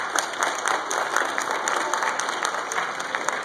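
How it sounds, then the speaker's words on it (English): School assembly audience clapping steadily throughout, a dense sustained round of applause from a crowd with no break. "Round of applause."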